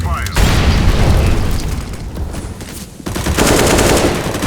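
Gunfire in a first-person shooter video game: loud rapid automatic bursts and booming shots, with a short lull before another burst of firing.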